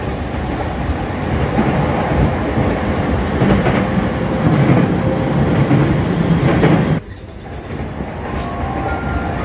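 Steady rain falls in the evening in Singapore, a dense continuous hiss that stays loud for about seven seconds and then drops sharply to a quieter, thinner patter.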